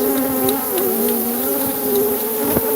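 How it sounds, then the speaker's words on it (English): A dense swarm of killer bees drones in a loud, continuous buzz close by, holding a steady hum with faint knocks from insects striking a surface. "So these are killer bees, everybody."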